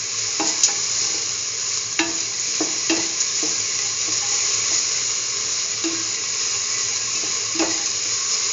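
A salted mixture being stirred and mixed while sauteing in a pan, with steady broadband sizzle and scattered spoon scrapes and clicks across the whole stretch, fairly loud and close, no talking.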